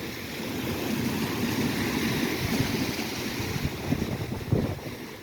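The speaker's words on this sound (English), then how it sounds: "About 2-footers. There's some bigger waves further offshore." Wind-driven waves of about two feet washing onto the shore of Lake St. Clair during a gale warning, a continuous rushing wash with heavy wind buffeting the microphone and small surges building toward the end.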